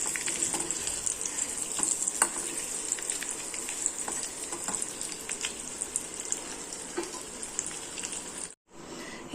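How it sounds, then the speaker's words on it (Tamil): Masala for egg curry crackles and fries in a pan over low flame, a dense close sizzle with occasional stirring clicks, running steadily before a brief drop out near the end. "லோ ஃப்ளேமில் வச்சு ஃப்ரை பண்ணுங்கள், இல்லைன்னா மசாலா வந்து கரிஞ்சிரும்"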